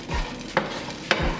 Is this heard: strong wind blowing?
no